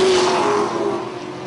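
Race cars on the Punta Gorda Speedway oval, a loud engine roar passing close by and fading slightly as it pulls away.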